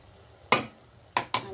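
A paste of chilli, ginger and garlic drops into a hot pan and hisses sharply, then gets stirred in with two more quick sizzling bursts, all close and alone.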